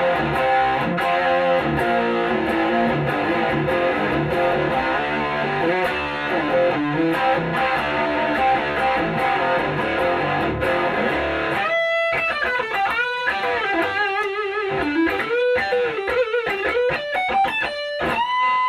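An electric guitar runs through a Stoner's FX overdrive pedal set for mild, loose distortion, playing sustained chords and then a more broken passage of single notes with brief pauses, loud and close throughout.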